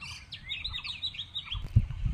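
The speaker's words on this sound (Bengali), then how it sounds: "পাখি দেখেন কিচিরমিচির শব্দ করছে।" Small birds chirp near a rice field and a netted fish pond, a quick run of high tweets at moderate distance over low rumbling outdoor background noise.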